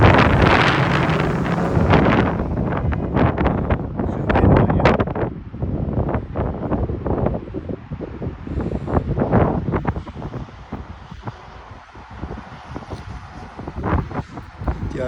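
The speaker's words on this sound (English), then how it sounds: "Bear with the wind, folks. Nothing I can do." Strong outdoor wind buffets a microphone at a car lot, loud rumbling gusts that rise and fall and stay constant throughout.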